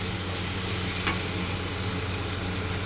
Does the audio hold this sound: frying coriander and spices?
yes